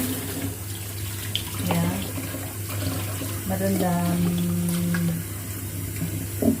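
Water runs steadily from a tap into a bowl to soak glass noodles, a continuous close splashing stream over a low hum, with a few brief voice-like sounds mixed in.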